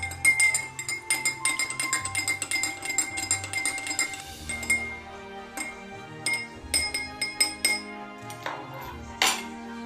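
A metal spoon clinks repeatedly against a glass in a quick, uneven rhythm, close and bright, as vinegar solution is stirred in a vapor-pressure lab experiment.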